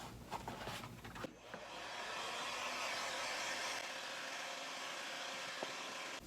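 A heat gun blows in a steady, continuous whoosh while warming a craft foam mask for shaping, close and moderately loud, preceded by a few brief handling knocks and with no talk.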